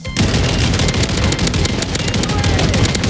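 Rapid shotgun blasts with fire rounds in the Warzone video game, loud dense repeated bursts packed closely together over steady background noise.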